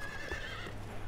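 A horse whinnies briefly in the fantasy video game Dark Messiah: Might and Magic, a short close neigh with faint hoof clops over a steady low background hum.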